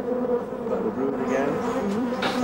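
Honey bees buzz steadily through a fruit garden in Namibia, a close, continuous droning hum with no voices.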